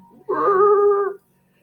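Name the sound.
voice imitating car tires screeching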